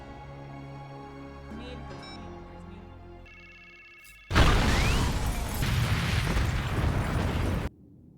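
A bomb goes off inside a trailer in a sudden loud blast, and a dense roaring rush follows for about three seconds before cutting off. Tonal music plays before the blast.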